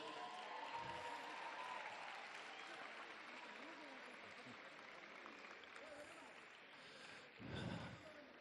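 Applause for Miss World contestants at an outdoor sports finals event, a broad wash of crowd clapping heard from a distance that carries on steadily, with a short louder burst near the end.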